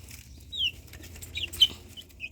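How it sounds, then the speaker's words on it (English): Chickens in a coop cluck and chirp softly in a few brief, high calls over a low background hum, faint and intermittent. "So the chickens are in here happy, roosting away."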